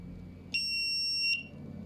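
A small buzzer driven by the output of an NE555 timer sounds once: a thin, steady high-pitched electronic tone lasting under a second, starting and stopping abruptly against quiet background hum.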